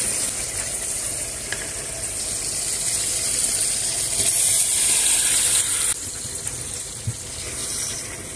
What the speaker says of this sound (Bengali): এখন এই মশলার সঙ্গে ইলিশ মাছ দিয়ে ভালো করে কষিয়ে নেব।